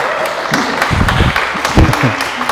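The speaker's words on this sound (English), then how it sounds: "Everyone can give them a little clap." Wedding guests at a hotel ceremony give a brief, light round of clapping, mixed with chatter, laughter and low voices nearby.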